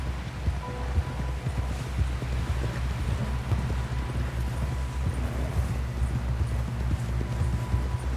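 Rapid, rhythmic hoofbeats of a galloping horse in Red Dead Redemption 2 pound steadily over a low rumbling background, continuous and close.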